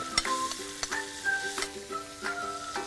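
Garlic fries in a pan with a soft steady sizzle, while sharp clinks and scraping stirs land close and at irregular moments, and a faint tone hums beneath them.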